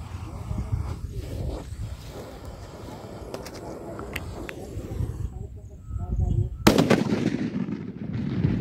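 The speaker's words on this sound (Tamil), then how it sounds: "இந்த பெரிய சைஸ் பேப்பர் பாம்பு இதை வந்துட்டு மேலே விட்டு வெடிக்க வைக்கலாம்" Outdoor sounds with faint voices, then a large paper snake firecracker is launched upward and goes off with one sharp, loud bang followed by crackling and rumbling noise.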